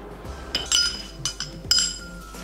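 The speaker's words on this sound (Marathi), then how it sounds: "आता हे दोन्ही आपल्याला मिक्सरच्या भांड्यामध्ये ग्राइंड करून घ्यायचे. आता आधी आपण साबुदाणे घालूया." Soaked sago is tipped into a mixer grinder jar, making a few sharp clinks and knocks of a spoon against the jar over a quiet kitchen background.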